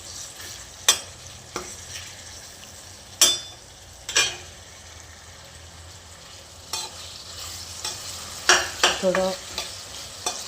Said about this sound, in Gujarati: જો હવે આને તેલની અંદર ટમાટરને ચડવા દઈશું.